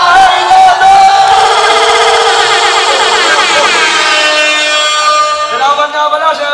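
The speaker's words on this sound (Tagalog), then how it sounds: "aking pong hinihinga malakas na palakpakan at sigawan ng bahay natin" Loud, dense crowd of a live audience at a rap battle, cheering, shouting and clapping continuously for several seconds, a broad sustained roar that eases slightly near the end.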